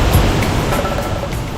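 A powerful waterfall in Munnar, Kerala roars steadily and close, a dense unbroken rush of crashing water with no voices.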